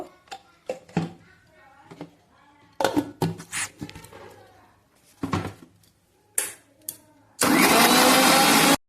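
A kitchen grinder blends coriander powder and cumin powder into a paste, starting as a loud, steady broadband whir near the end after a stretch of talk and small kitchen clatter.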